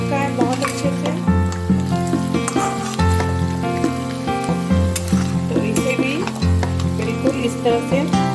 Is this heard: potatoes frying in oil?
yes